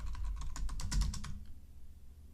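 Typing on a computer keyboard, a quick run of close, crisp key clicks lasting just over a second before stopping, with no talking.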